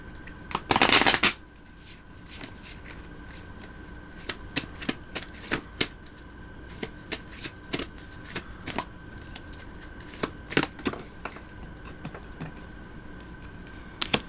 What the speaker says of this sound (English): All the cards flew everywhere. I need to reshuffle.